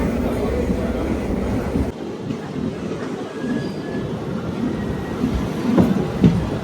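On the Kurnool City to Guntakal route, a DEMU train runs along the rails with a continuous rumble and rhythmic wheel clatter. Brief squeals come and go, the noise dips for a moment partway through, and no one speaks.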